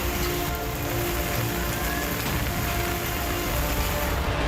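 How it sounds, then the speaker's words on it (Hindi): Heavy, steady rain pours over Chamoli in Uttarakhand, a dense continuous hiss with no break, moderately loud and alone, with no voices over it. "चमोली जिले में पिछले 48 घंटों से लगातार हो रही बारिश ने लोगों की परेशानी बढ़ा दी है"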